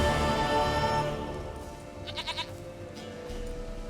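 A goat in The Witcher 3 lets out a long, close, wavering bleat, followed by quieter, shorter bleats and faint rhythmic pulses, with no speech over it.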